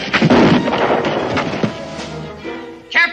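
A single loud gunshot from a 1969 Western drama cracks out with a heavy booming impact at the start, followed by rumbling, echoing tail, shuffling noise and a brief shout near the end.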